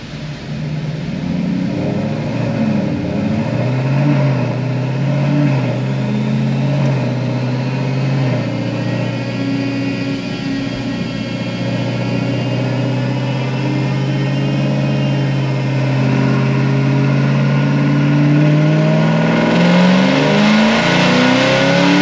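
An LT4 V8 fitted with a Whipple 2.9 supercharger revs hard on a dyno at roughly 900 horsepower on pump fuel, a loud, sustained engine roar that holds steady for the whole stretch, with no talk over it.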